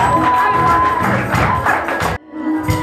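Wedding guests at a Gabonese church nuptial blessing cheer loudly for the groom, a dense crowd roar with claps and thumps that cuts off abruptly before swelling again at the end.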